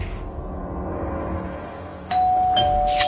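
A doorbell rings partway through, a clear electronic tone that sustains, followed by another chime-like burst, after a quiet stretch of low room noise.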